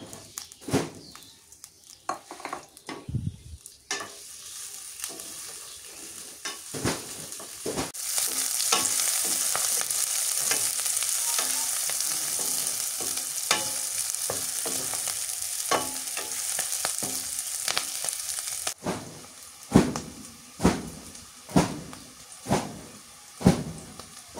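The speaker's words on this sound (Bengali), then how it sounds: "সরিষার তেল দিয়ে দিলাম, রসুন আর কাঁচামরিচ দিয়ে দিলাম" Garlic and green chilies hit mustard oil and fry with a loud, dense sizzle in the middle stretch. Stirring scrapes and knocks on the pan come before and after, some in a rhythmic run near the end.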